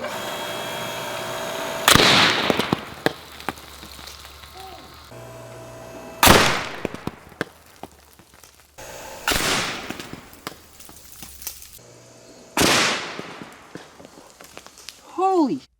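Metal pieces zapped in parallel by a high-voltage electric discharge give four loud, sharp bangs spaced a few seconds apart, each followed by fading crackle and hum.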